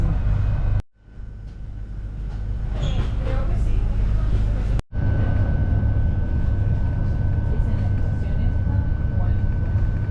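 A train heading into Madrid Chamartín rumbles on, a loud, steady low roar of rolling wheels and cabin noise, broken by two brief drops in sound, with onboard talk faintly audible.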